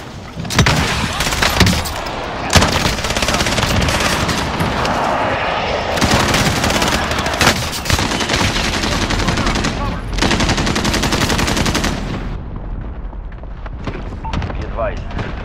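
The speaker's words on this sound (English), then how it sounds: "Allied precision airstrike incoming." Dense gunfire and explosive booms from a precision airstrike in the video game Call of Duty Modern Warfare, loud sustained bursts with heavy thuds filling the whole stretch, and a voice speaking over the battle.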